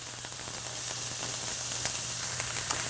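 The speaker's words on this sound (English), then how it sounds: "We just have a nice sizzle." Food sizzling in oil in a frying pan while an edamame dish cooks, a close, steady hiss scattered with small pops and crackles, with a low hum beneath.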